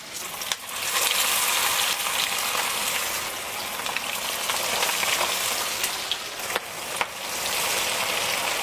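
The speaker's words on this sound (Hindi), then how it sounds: "इसी तरह करके सारे कबाब्स को फ्राई करनी है" Kebabs frying in hot oil make a loud, dense, continuous sizzle with brief dips and a few sharp clicks.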